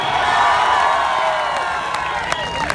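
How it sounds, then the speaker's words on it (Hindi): A large live stage show audience in Delhi cheering and clapping, a dense sustained roar of crowd noise with whoops and a few sharp claps near the end, fairly loud and close. "दिल्ली नगरी में एगो ताली बजा के आशीर्वाद दे दी ही जाए।"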